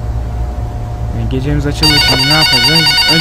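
A telephone rings inside the horror game Bloody Nights at Freddy's, a loud electronic warble with bright repeating tones that starts partway through and stays prominent while someone talks over it.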